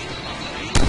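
Bomb blast in the Deadpool video game: a sudden heavy boom that bursts in at the end, loud and close, following a busy stretch of game noise.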